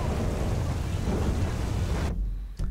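A thunderstorm in the GTA 5 video game brings dense, loud rain with a low rumbling roar that cuts off abruptly near the end, leaving a faint click.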